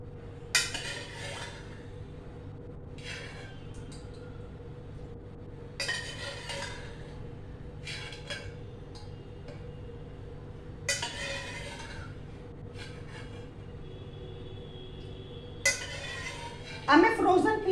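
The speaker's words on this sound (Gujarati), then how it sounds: "આ વટાણા આમાં નાખી દેવાના." Boiled peas tipped into a pan of fresh cream for malai methi mutter, with a string of separate metal and glass clinks and utensil knocks spread across the clip, faint steady hum beneath, a louder scraping clatter at the end.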